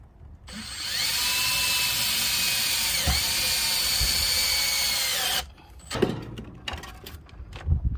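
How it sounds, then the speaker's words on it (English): A power drill drives a screw into an RV screen door, whining steadily for about five seconds with a brief dip in pitch midway, then stopping, followed by a few clicks and handling knocks. "So next thing I need to do is to put a screw right here to hold it in place at the top."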